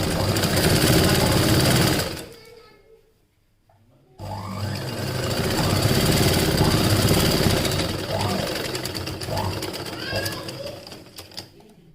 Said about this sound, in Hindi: दोस्तों इसी तरीके से हम सिलाई कर लेते हैं।